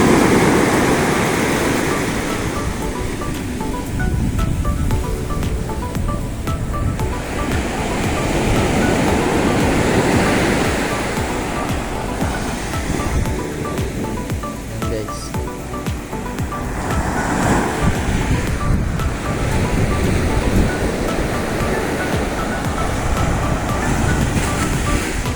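Ocean surf at a tidal beach at low tide rolls in a loud, broad wash, swelling and easing in long surges over a steady roar, with no voices.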